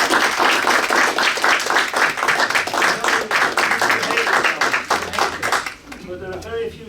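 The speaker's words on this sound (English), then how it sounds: "I just asked you to publicly applaud him for that at this moment." An audience at a Salford CCG annual general meeting applauds Alan, with dense, steady clapping for about six seconds that fades out before a voice resumes speaking.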